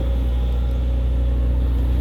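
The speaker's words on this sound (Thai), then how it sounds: "ในส่วนของที่ได้ยินคือเสียงปั๊มนะครับ" A steady, low mechanical drone from the hydraulic pump of a SANY SY135C long-boom excavator, a constant pump-like hum with rumbling engine tones, close and unbroken throughout.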